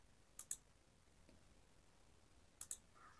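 A few light taps on a phone or device screen while an address is typed, two short pairs of soft clicks separated by a pause, close and quiet in a still room.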